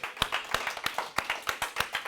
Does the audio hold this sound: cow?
no